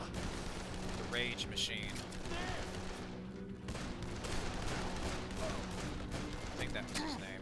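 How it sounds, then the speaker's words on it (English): Assault rifle fire from Dead Island crackles in steady rapid bursts under continuous talk, mixing with other game noise throughout. "That dude has an assault rifle."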